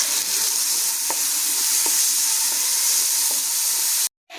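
Chopped onions are stirred into a hot pan for a chicken bread roll filling, giving a steady sizzle and frying hiss with a few faint scrapes of the spoon, close and continuous until an abrupt cut near the end.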